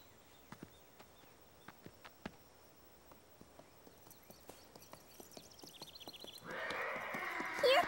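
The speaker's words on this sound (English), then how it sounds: "The sound of the horse startled Caillou." Cartoon horse sounds: a run of sharp, evenly spaced hoof clip-clops that quicken and grow closer, ending in a loud, bright neigh at the close.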